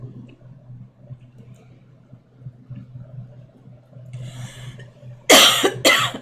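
Two sharp coughs near the end break a quiet stretch of low steady hum.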